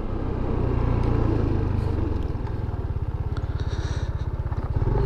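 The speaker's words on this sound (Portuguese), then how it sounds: "Pega essa moto aqui, ó. Você sente que a moto é mais forte." A 160cc motorcycle engine chugs steadily up close while climbing a mountain road, its rhythmic low throb pulsing throughout, with faint rattles and scrapes from the ride.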